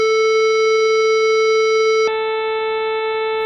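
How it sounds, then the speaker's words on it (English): A triangle wave test tone played through a Celestion speaker impulse response: a steady, loud pitched tone with a stack of harmonics that shifts abruptly partway through to a thinner, slightly lower-level tone, with no voices. "If I take triangle wave"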